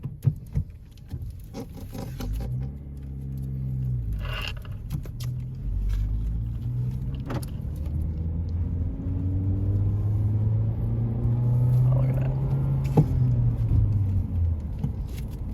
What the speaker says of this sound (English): let's take it out for a spin